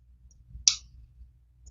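Pruning shears snipping a new azalea shoot after flowering, a single sharp close click over quiet background.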